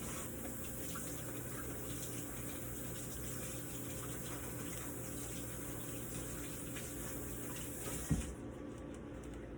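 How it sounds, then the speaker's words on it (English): Tap water runs continuously into a kitchen sink during hand washing, a faint, even hiss and splash that holds steady with a brief clunk near the end. "Let me go ahead and wash my hands real quick."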